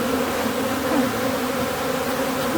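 Honey bees from hives buzz in a dense, continuous drone, loud and close, with no pauses.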